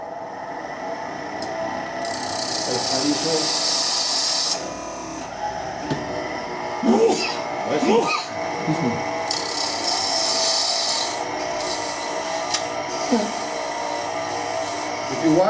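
A wood lathe spins while a tool cuts a tenon on a turning, giving a steady whirring rumble with bursts of scraping, rasping cuts and chip noise. A person talks intermittently over the machine.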